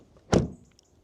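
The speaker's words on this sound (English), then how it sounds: "Then door closing sounds." A Renault R5 car door shuts with a single solid thunk, followed by a faint short rattle and tick as it settles, heard close up.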